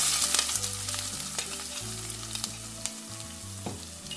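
Chopped garlic and onion sizzling in oil in a heated pan, a continuous close frying crackle with occasional stirring clicks and no voices.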